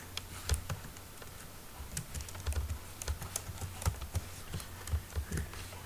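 Python code being typed on a computer keyboard gives a quiet, uneven clatter of key taps throughout, with occasional heavier thumps and no talking.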